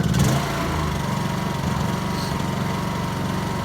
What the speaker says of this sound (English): And then there it is running on gasoline.